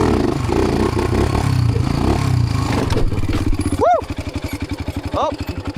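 An ATV engine being repaired revs hard and roars loud through a wheelie, then settles into a choppy, pulsing idle, with excited shouts from people nearby.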